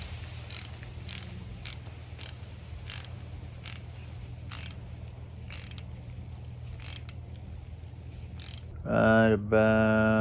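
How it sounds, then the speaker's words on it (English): A part on a Honda Civic EF hatch engine is tightened down with a ratchet, giving a steady series of evenly spaced close clicks over a low hum, followed by a brief louder metallic rattle near the end. "I just got to tighten her down a little bit."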